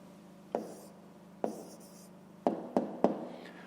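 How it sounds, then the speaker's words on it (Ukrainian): A pen writing an answer by hand on paper in a fifth-grade maths exercise, quiet scratching strokes marked by five sharp taps as characters are finished, with no talk. "Записуємо відповідь."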